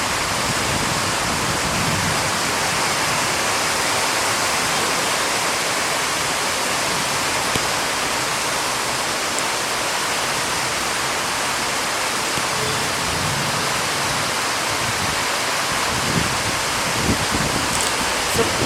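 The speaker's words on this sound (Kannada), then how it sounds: "ಫುಲ್ ಮಳೆ, ಅನ್ಎಕ್ಸ್ಪೆಕ್ಟೆಡ್ ಮಳೆ." Heavy, unexpected March rain pours down in a dense, loud, steady roar that continues without let-up throughout, with no voices over it.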